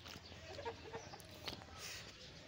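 An Aseel rooster kept with hens and pigeons makes a few soft, low clucks at a moderate distance over faint background noise.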